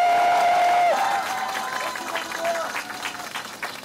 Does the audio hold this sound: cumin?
no